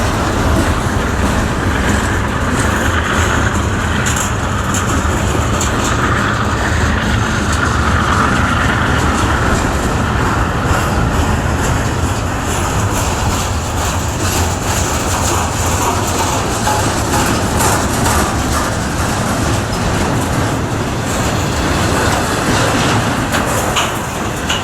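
A freight train rumbles steadily along high-line rails toward Montana, loud and close, with continuous clanking and rattling wheels throughout.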